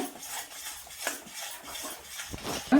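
A spoon stirs ghee and cardamom powder into melted jaggery in a pan, giving light, irregular metallic scrapes and clinks against the vessel with a sharper clank at the end.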